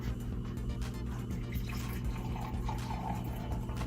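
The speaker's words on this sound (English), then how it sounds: "So I'm going to pour the sample in." A water sample poured through fine 0.45-micron filter paper gives a faint, steady trickling and dripping of liquid beneath a low background hum.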